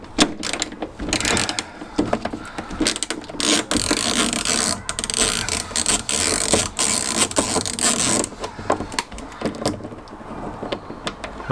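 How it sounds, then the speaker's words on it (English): A hand ratchet turns chunky screws out of the door pull handle on a classic Fiat 500, giving a dense run of fast metallic clicks in bursts with brief pauses, close and fairly loud. "They're quite chunky screws, this, so in order to fit a good head in them, I'm using my ratchet."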